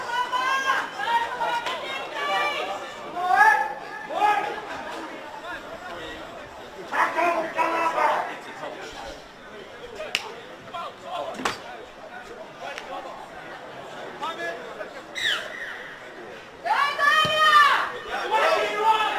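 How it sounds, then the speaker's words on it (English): Crowd at a schoolboy rugby league match between Columba and Xavier Catholic cheers and chatters in a steady hubbub, rising in swells, while a commentator talks over it. "as the crowd gets behind them"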